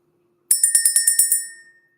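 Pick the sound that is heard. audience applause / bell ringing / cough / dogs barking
bell ringing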